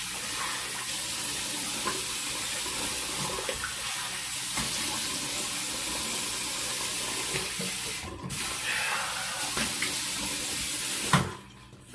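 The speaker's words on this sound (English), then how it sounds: "All right, let's get rinsed off." Tap water runs steadily from a bathroom faucet into a sink for a rinse after a face shave, a close, continuous broadband hiss with a brief break and a small clunk near the end.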